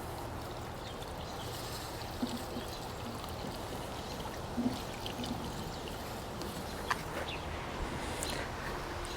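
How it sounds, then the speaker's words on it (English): Watering large blue plant containers with fertilizer-mixed water poured from a two-gallon container, a steady faint stream of water splashing into soil, with a few small knocks and clicks along the way. "And then we just water as normal."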